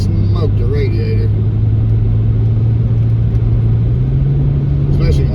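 A car rolls slowly along an old one-lane country backroad, giving a steady, loud low engine drone and road rumble throughout, with a brief voice near the start.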